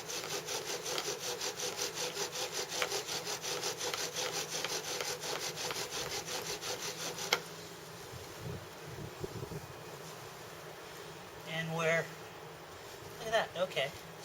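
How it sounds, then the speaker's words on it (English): Steady rapid rasping of an ash bow drill spindle grinding through wood, rhythmic strokes for several seconds, then stopping, leaving quieter scraping and handling noise. "I'm going to use this ash spindle again, and drill it."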